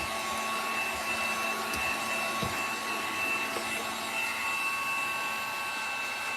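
A steady, whining airflow hum, like a handheld dryer or heat tool, blows continuously for several seconds while drying paint on a DIY windmill, with faint clicks and taps and no talk.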